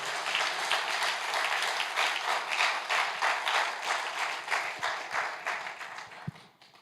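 A church congregation applauds at a French-language sermon, with dense, sustained clapping from many hands that holds steady and then thins out toward the end, with no voices over it.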